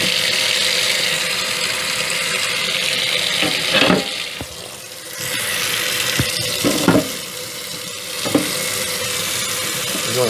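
Water gushing through a Regal No. 0 kerosene lantern being flushed out, a loud steady rushing stream with a few brief clanks and splashes as the flow shifts.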